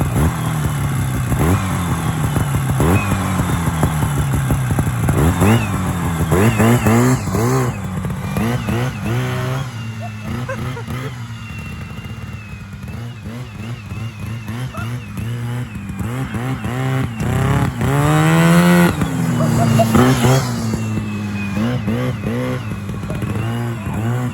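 A 1970s Sno-Pony snowmobile engine runs after more than twenty years of sitting, a loud, close, continuous buzzing two-stroke drone that rises and falls as the throttle is blipped and revved, with no talking.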